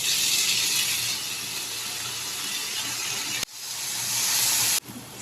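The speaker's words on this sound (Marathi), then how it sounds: "बरो भाजून घेतले काय टमाटे ऍड करपाचे" Tomatoes fry in a pan for Goan clams sukka, giving a steady, loud broadband sizzle and hiss that runs throughout, with two abrupt brief dropouts before the sizzle resumes. No one speaks.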